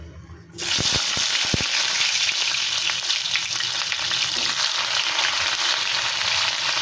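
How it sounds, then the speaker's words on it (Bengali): Pointed gourd pieces drop into hot oil in a kadai and burst into a loud, steady sizzle that carries on close up with no one speaking. "পটলগুলো আগে ভালো করে ভেজে নেব"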